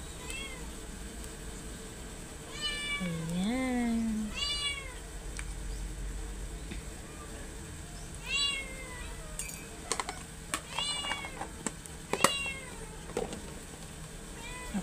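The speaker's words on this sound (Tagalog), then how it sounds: "Yung pusa ko gustong tikman." Pet cat meowing repeatedly in a kitchen during halo-halo preparation, several rising mews near the start and more around the middle, mixed with light clicks and tapping, a voice briefly speaking.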